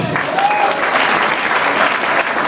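A crowd at a Nigerian political rally claps loudly and continuously, a dense wash of applause with a faint voice rising briefly above it.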